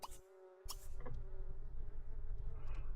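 Bees buzzing in a video game beekeeping task, a steady close insect drone with a couple of sharp clicks near the start, continuous and fairly loud throughout.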